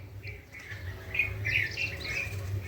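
Birds call outdoors on a cold morning, a few short squawks and chirps at moderate distance over a low steady hum, with no talking.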